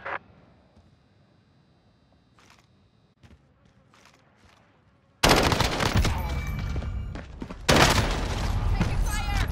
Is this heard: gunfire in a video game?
yes